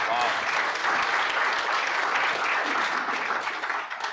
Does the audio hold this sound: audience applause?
yes